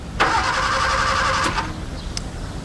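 An old, clapped-out car with no petrol in the tank cranks over with a strained whirring starter for over a second, then cuts out without catching, followed by quiet.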